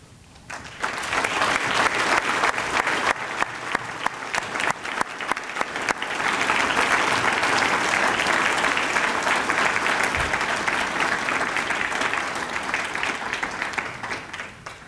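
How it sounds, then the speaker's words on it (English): A dinner audience at a heroes award event gives sustained applause for award recipients, starting with scattered sharp claps and swelling into dense, steady clapping from a full room for about fourteen seconds. "Please, once again, join me in one more round of applause for all the 2014 Heroes of the Heartland recipients"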